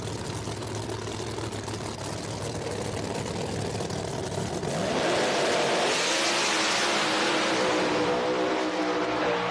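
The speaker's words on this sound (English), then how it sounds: "That's a drag race" Drag race cars launch at a No Prep Kings event at National Trail Raceway, a loud sustained engine roar that swells into a harsher, brighter howl as they accelerate away, with no voices over it.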